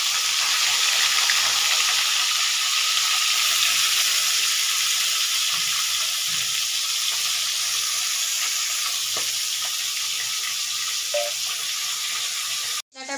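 Bhola fish frying in a pan, a loud, continuous sizzle of hot oil up close with a few light clinks near the end.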